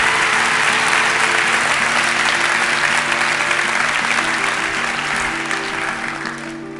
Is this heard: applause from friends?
yes